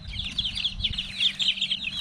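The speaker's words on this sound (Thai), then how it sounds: "ลูกไก่สมบูรณ์แข็งแรงดีนะครับ มีขนออกปีกออกแล้วนะครับ" Newly hatched chicks chirp continuously inside an automatic egg incubator, a dense chorus of high peeping over a low mechanical hum, close by.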